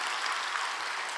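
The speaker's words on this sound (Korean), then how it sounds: "그치, 박수를 좀 쳐도 돼요." Church audience clapping during a special evening thanksgiving service, a brief burst of dense, even applause filling the hall with no voices over it.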